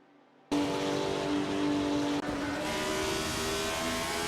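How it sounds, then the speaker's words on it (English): AI-driven Group 6 race cars in a racing simulator game roar in suddenly after a quiet moment, a dense, continuous high-revving engine drone that holds steady with a slight shift in pitch midway. "We just watched a racing simulator where artificial intelligence drove the cars."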